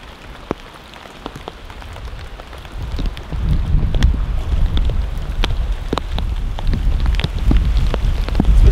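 Rain patters steadily at a lakeside campsite during fall storms, with close drops tapping on a surface. It starts lighter and becomes heavier and louder after a few seconds, with no talking.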